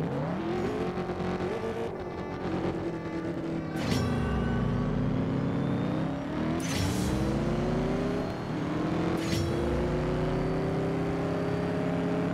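A Ford Raptor roars through a CSR 2 video game race, its engine revving steadily high with repeated gear-shift drops and climbs, loud and continuous with no talking.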